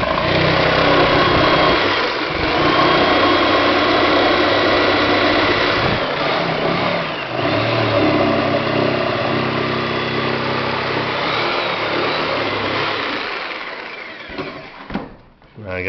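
A Sawzall reciprocating saw cuts through a wooden floor joist with a loud, buzzing motor drone for most of the clip before winding down near the end, while someone talks over it.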